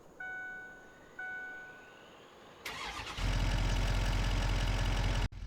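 A truck in Farming Simulator 25 chimes twice as the ignition turns, then the engine cranks and catches into a steady, loud, low idle that runs on, with no talking.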